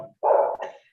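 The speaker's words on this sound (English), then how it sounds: "my dog's screaming." A dog lets out one loud, drawn-out bark close by that breaks into a second, shorter yelp, with a faint whimper just before it.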